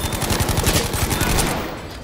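Automatic weapon fire in a Battlefield video game: a loud, rapid and steady stream of shots lasting about two seconds, trailing off at the end with no talking.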